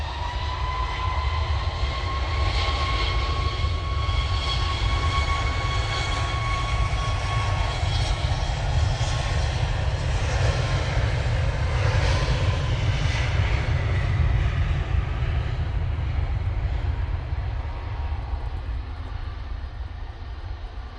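Jet aircraft departing Manchester Airport on a gusty day, a steady, loud low engine roar with whining tones, sustained throughout and easing slightly at the end.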